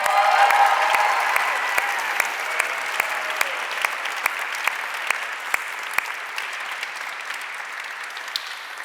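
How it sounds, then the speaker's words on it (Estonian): A festival audience gives the organizers a round of applause, a sustained wash of many hands clapping that starts full and slowly tapers, with a few louder individual claps standing out. "teeme ühe aplausi kõigil neil"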